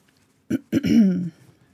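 A couple of short, sharp throat-clearing coughs followed by a rough, voiced hacking sound, close up, with no talk around it.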